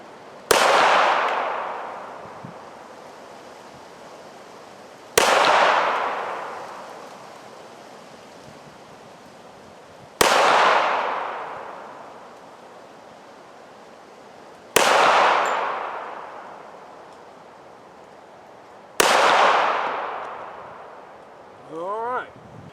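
A Remington stainless steel 1911 pistol fires five .45 ACP shots, each a sharp, loud report with a long ringing echo, spaced roughly five seconds apart, followed by a brief faint sound at the end.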